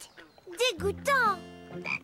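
A cartoon frog near a pond of tadpoles croaks several times in a short, bouncy run of warbling calls, close and clear over a quiet background.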